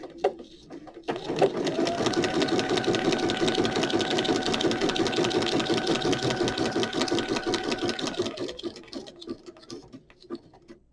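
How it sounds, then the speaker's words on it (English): A sewing machine runs steadily through a simple zigzag stitch on a crafting project, a fast even whirring chatter that lasts several seconds before it winds down, with a few brief clicks before and after. "I think I'm just going to do a simple zigzag stitch on this one."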